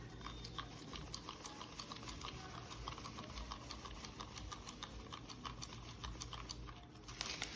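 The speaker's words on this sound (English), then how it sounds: "Using a clean reusable stick to mix it." A clean reusable stick stirs resin in a cup, making a steady run of close, fast scraping and tapping clicks that continues without pause and without any talk.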